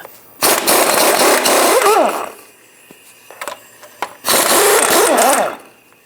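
An impact or power wrench fitted with a 21mm socket runs in two loud bursts of whirring rattle, each with a rising-and-falling pitch, on the differential mount nuts of a 2007-13 Chevy Avalanche. Clanks of metal fall between the bursts.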